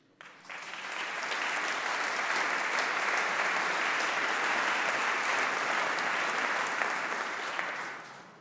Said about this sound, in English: we all applaud you for that